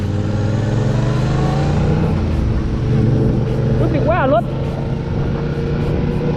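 A 2021 Yamaha MT-07 motorcycle engine revs as the throttle is twisted, a loud close rumble that rises and falls in pitch, with a short voice-like warble near the end.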